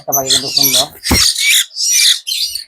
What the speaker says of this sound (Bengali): এগুলো অরিজিনাল সিটাগান ময়না খুবই ফাইন